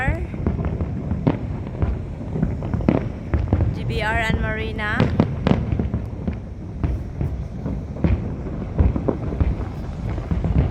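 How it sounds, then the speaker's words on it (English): New Year's Eve fireworks crackle and bang all around, a dense barrage of close sharp bursts and popping layered with distant booms, while a person speaks and a whistling rocket rises midway. "Fireworks, surrounded by fireworks."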